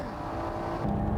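A Porsche and a Honda NSX race at Tsukuba Circuit in 1995, with a steady engine drone that rises slightly in pitch as the cars press on, heard briefly at moderate distance.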